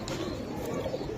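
Pigeons coo in a brief, low, murmuring burst at close range, set against steady background noise.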